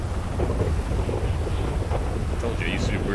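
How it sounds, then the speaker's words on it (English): A video game thunderstorm in NewDay RP: a steady, loud wash of rain and wind with a deep rolling rumble running underneath the whole time and no clear breaks. "I'll just wait out the rest of the storm right here"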